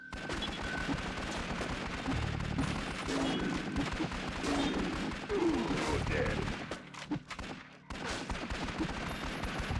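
Gunfire rattles almost without a break from the shooter video game Twin Caliber, loud and dense, with layered shots and game noise filling the whole stretch.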